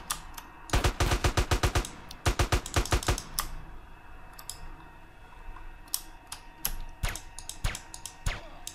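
Gunfire in GTA San Andreas comes as two quick, rattling bursts of rapid shots, followed by scattered single shots, sharp and close.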